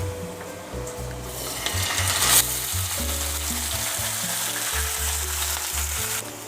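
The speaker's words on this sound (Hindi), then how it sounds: "अब इसमें मैं चिकन कीमा डाल दूँगी।" Steady, close sizzling of chicken mince frying in a hot pan with golden-browned garlic, with faint scraping stirs and clinks over the continuous crackle.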